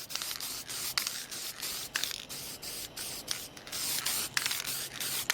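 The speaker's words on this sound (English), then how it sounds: "I'm going to apply my second layer of primer." Bursts of spray primer hiss onto a car bumper in short, repeated pulses, close by, with brief pauses between each pass.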